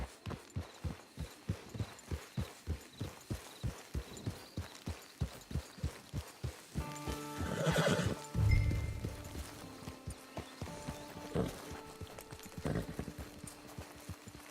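A horse in Red Dead Redemption 2 clip-clops along in a steady, even rhythm of hoofbeats. It breaks into a louder snort or whinny midway, then a few more scattered steps and game sounds follow.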